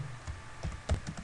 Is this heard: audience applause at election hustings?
no